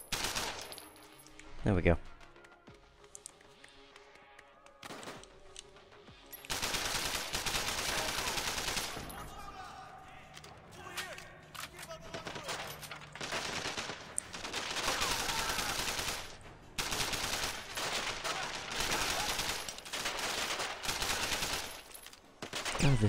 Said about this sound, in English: God, there's just guys shooting me every time.